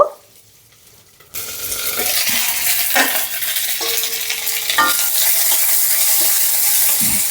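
Unpeeled garlic cloves fry in a pan for tomato chutney, a loud continuous sizzle kicking in after a quiet moment, with occasional stirring scrapes.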